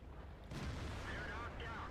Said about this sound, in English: I shoot one on the track.